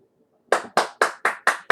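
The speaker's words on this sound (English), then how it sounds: "Give myself a round of applause." A single person claps a short burst of six sharp, evenly spaced hand claps, loud and close, with no talk over them.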